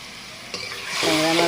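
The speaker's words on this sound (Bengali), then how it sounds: "এবার আমি এই যে ট্যাংরা মাছগুলো দিয়ে দিচ্ছি।" Tengra fish dropped into hot spiced oil in a pan, a quiet hiss that breaks into a sudden louder sizzle and keeps rising as the fish hits the oil.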